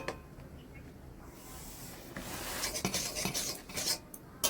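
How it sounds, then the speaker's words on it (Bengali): Semolina halwa with coconut and bay leaves being stirred often in a pan, a soft scraping and rubbing of spoon against metal that grows busier and louder partway through, with close, irregular strokes. "সুজি এইভাবে নাড়া দিতে হবে ঘন ঘন করে আমি নাড়া দিচ্ছি"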